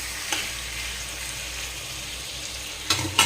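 Chicken frying in a pan over a home stove late at night, a steady close sizzle with brief spits and stirring bursts near the start and end.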